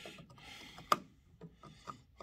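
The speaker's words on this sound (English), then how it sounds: "We're going to scribe some lines to find the center of it. Scribe a line all the way across." A scriber is drawn across a metal body mount bracket for a Pontiac, giving quiet, close scratchy rubbing strokes with one sharp tick in between.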